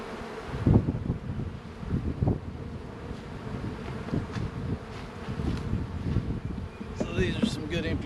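Honey bees drone steadily around an open hive during a late March inspection, a dense low buzz with some wind rumble across the microphone.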